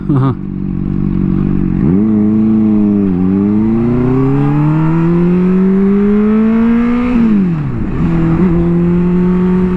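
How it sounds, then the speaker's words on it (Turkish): A Honda CBR 600RR sport motorcycle, just back from maintenance, rolls slowly through city streets at low revs. Its loud, close engine hum rises gradually and dips at a few throttle changes across the ride. "düşük düşük rolantide gidelim malum şehir içine girdik artık"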